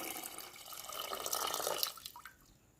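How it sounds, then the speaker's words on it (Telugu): Water is poured into a bowl of soaked paste for halwa puri, giving a soft splashing trickle for about two seconds that fades quickly to near silence; no voices. "ఆ పేస్ట్ మునిగే వరకు నీళ్లు పోయాలన్నమాట"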